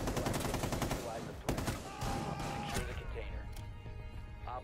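Flashbang grenade going off in Rainbow Six gameplay, a loud burst followed by a dense rattle of gunfire and sharp cracks that fade slowly.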